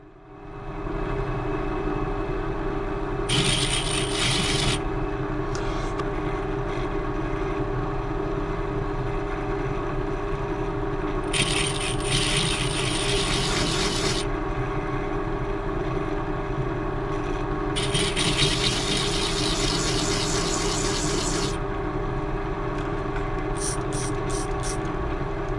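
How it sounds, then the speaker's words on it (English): A larger drill bit runs continuously while drilling a shallow recess into a bronze casting, with a steady motor hum and three bursts of harsh, hissing cutting noise as the bit bites into the metal. "This larger bit will not go right through, it'll just go a centimetre or so in"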